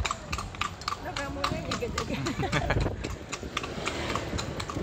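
Horse hooves clip-clop in a steady quick rhythm as a bendi carriage rolls through Padang streets, with people chatting close by over the hoofbeats and road noise.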